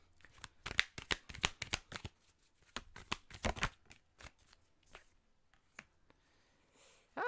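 Oracle cards being shuffled and drawn, a run of crisp close riffling flutters and slaps, fairly soft, with no talking.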